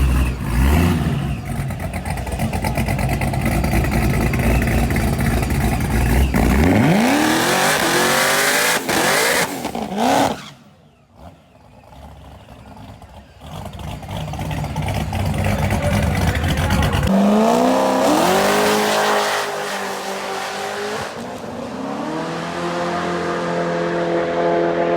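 A Chevrolet Corvette C7 launches down a drag strip at a Streetcar Takeover event, engine revving hard and climbing through gears, a sharp hiccup and brief power cut mid-pass, then rising again loud and close.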